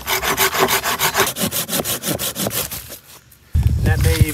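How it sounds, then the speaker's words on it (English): Hand saw cutting through the ends of stiff, old, rotten wood, a loud rhythmic rasp of quick back-and-forth strokes that slows, stops briefly, then gives way to rustling and clattering of handled wood. "we can always trim off any stragglers or cut off the ends if we want."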